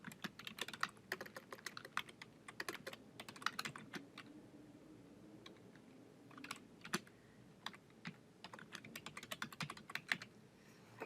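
Quick, irregular keystrokes on a computer keyboard, clicking steadily throughout with brief pauses between bursts, close and fairly quiet.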